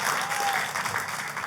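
A church congregation breaks into enthusiastic applause, a steady wash of many hands clapping close and loud throughout.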